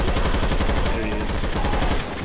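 Rapid, sustained gunfire aimed at a Tank in Left 4 Dead 2, a loud continuous burst of automatic shots rattling without pause, close and dense.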